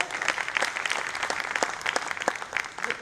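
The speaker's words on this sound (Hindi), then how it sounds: "इन लोगों के लिए जरा जोरदार तालियां हो जाए" Loud audience applause at a company's fourth-anniversary celebration honouring the management and office staff: dense, steady clapping from a large crowd, with sharp individual claps standing out throughout and no voices.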